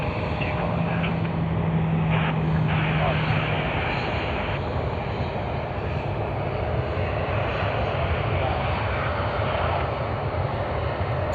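A Qantas airliner on the Sydney to Darwin service, flight QF 840, at Sydney Airport, its jet engines roaring in a steady, loud, continuous wash that holds evenly throughout.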